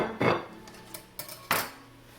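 Wedge salad with bacon being tossed in blue cheese vinaigrette in a bowl, three quick scraping, clattering strokes of utensils against the dish, close and distinct.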